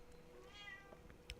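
A cat gives a single short, faint meow at close range in an otherwise quiet room.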